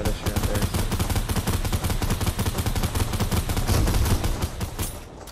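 Rapid bursts of automatic gunfire in the Fortnite video game during a ranked zero-build match, loud and continuous with dense rhythmic shots throughout.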